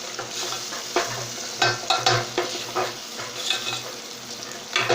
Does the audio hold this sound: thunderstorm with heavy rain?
no